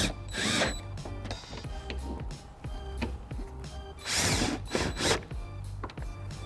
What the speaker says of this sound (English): Once clipped in, now re-secure the tail light back into position.